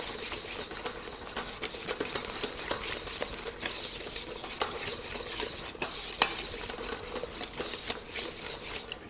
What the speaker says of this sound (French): Il n'est pas nécessaire de mélanger énergiquement, l'objectif est d'étendre la préparation blanc et sucre.